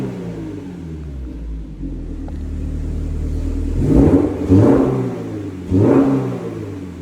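A Toyota GR86 with a Bluetooth exhaust valve open idles at a low rumble, then revs in two sharp bursts, each swelling loud and dropping back to idle. The engine is close and heard alone.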